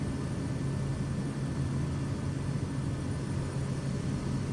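Kodiak 100 single-engine turboprop during a short takeoff, a steady loud engine drone with a low hum holding constant throughout, close and continuous with no talk.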